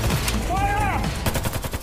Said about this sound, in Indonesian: Aksi baku tembak pun terjadi lagi.